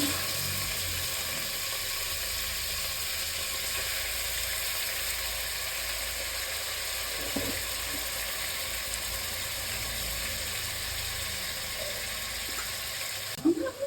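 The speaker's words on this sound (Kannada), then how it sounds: "ಎಣ್ಣೆ ಕಾದ ನಂತರ ಮಟನ್ ಹಾಕೊಳ್ಳೋಣ" Half a kilo of mutton fries in heated oil in a pan, making a steady, fairly quiet sizzle close by with a few faint clinks near the end. No one speaks.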